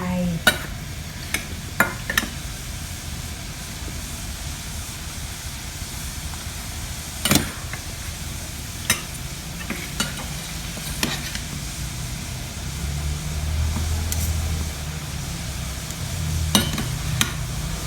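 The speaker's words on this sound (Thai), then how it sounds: "น้ำแกงเริ่มเดือด" Curry broth for a pork-bone northern Thai vegetable curry boiling in a pot: a steady bubbling, sizzling hiss with occasional sharp clinks of a utensil, no voices.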